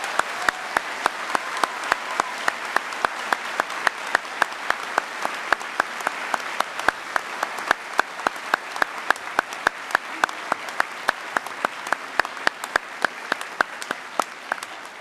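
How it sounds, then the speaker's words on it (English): A hall audience applauds graduating early-college high school students, a steady, dense stream of many hands clapping for about fifteen seconds, fairly close and without voices over it. "let's give these students a well-deserved round of applause"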